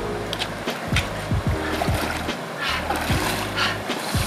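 Feet in Chaco sandals wade knee-deep through a river on a backpacking trail near Ojai, each stride making a rhythmic splash and slosh of moving water, close and fairly loud.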